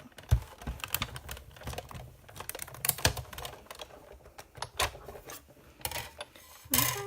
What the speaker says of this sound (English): You can see that that has now cut my puzzle pieces.